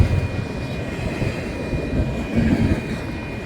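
A freight train with a distributed power unit pulls out of the yard near Cheyenne, Wyoming, giving a steady, fairly close low rumble of rolling cars and engines that swells slightly toward the end, with no voices.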